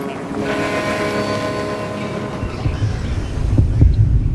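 A heartbeat effect in the Wild West mode of the video game Call of Juarez: low, dull thumps come in under a droning tonal hum and grow louder toward the end.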